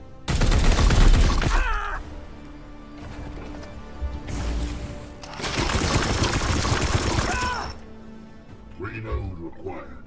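Sustained bursts of automatic fire ring out in Warhammer 40k: Chaos Gate - Daemonhunters, loud and dense across two long stretches with a quieter gap between them. A voice is heard speaking briefly near the end.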